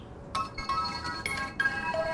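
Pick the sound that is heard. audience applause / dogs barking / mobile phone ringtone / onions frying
mobile phone ringtone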